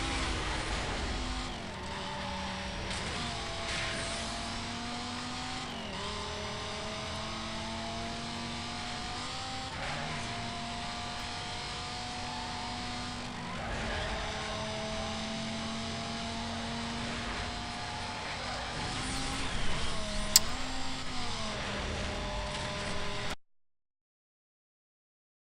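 Race car engines roaring continuously in the Need for Speed Most Wanted (2005) video game, steady loud revving with gear-shift dips and a sharp impact near the end, no talking.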